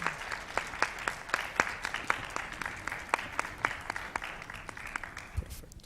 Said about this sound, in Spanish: Les pediría que le diéramos un fuerte aplauso a los especialistas